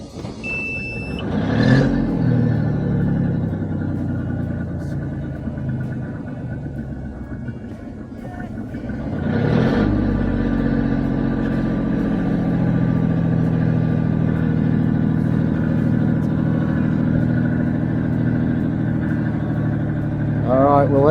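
A boat's engine is held at full revs in neutral, then drops back to a steady idle. The note swells sharply twice before settling into a continuous low rumble, close and loud, with a brief beeping near the end.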